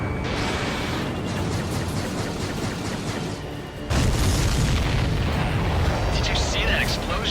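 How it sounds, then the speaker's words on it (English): A big explosion in the video game Homeward, a deep rumbling boom with mechanical clatter that surges loud partway through, sustained under steady game noise. "Did you see that explosion?"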